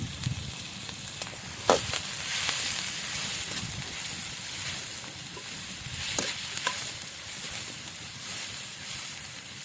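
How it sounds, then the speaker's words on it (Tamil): Onions sauté in oil in a pan, giving a steady close sizzle with a stirring utensil scraping and clicking now and then, and no talking. "ஸோ வெங்காயத்தை ஆட் பண்ணிட்டு நல்லா வதக்கி எடுத்துக்கணும்."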